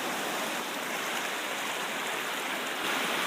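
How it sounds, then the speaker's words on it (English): Continuous broadband rushing of big-river rapids around a gold-prospecting sluice box, steady and close with no breaks or voices. "Today I'm sluicing on this awesome river."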